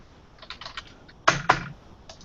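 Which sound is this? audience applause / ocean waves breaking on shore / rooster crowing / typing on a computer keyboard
typing on a computer keyboard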